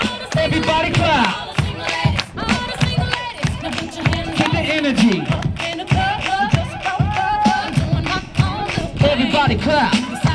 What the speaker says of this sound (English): Everybody clap like this. Come on, y'all. Everybody clap like this.